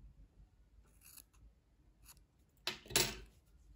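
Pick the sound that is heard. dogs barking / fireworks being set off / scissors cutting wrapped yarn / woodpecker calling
scissors cutting wrapped yarn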